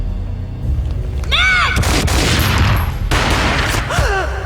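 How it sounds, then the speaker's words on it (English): Gunfire in the video game Max Payne, with booming shots and rumbling blasts amid whooshing slow-motion effects, loud and close against a tense game soundscape. "A gunshot boomed and she fell down in slow motion"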